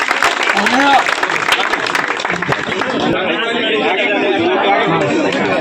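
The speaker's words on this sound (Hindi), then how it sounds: "जोरदार ताली इन दोनों के लिए।" Crowd applause for two half marathon runners finishing second together at a race in Darbhanga, a steady wash of clapping and chatter that runs throughout, with people talking and a voice speaking over the top at the start.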